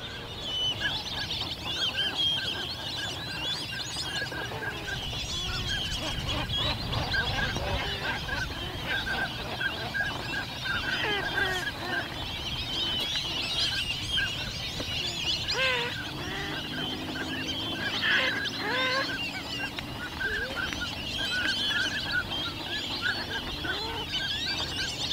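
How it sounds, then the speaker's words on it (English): A large flock of fulvous whistling ducks calls continuously across a wetland in Mexico, a dense chorus of overlapping whistles and honks at a moderate distance, steady for the whole stretch with no talking. "there's a ton of whistling ducks out here, and I've seen some fulvous already"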